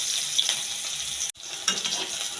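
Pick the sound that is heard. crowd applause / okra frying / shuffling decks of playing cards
okra frying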